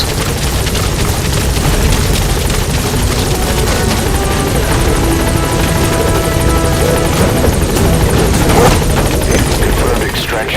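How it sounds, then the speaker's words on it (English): A support helicopter arriving in Metal Gear Solid V gives a steady, loud rotor roar that fills the whole stretch without letup, like a game soundtrack scene. "Support helicopter has arrived."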